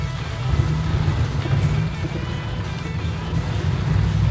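Hail pelts a truck during a storm, a dense continuous rattle and hiss of pellets drumming on the metal body with a steady low rumble underneath.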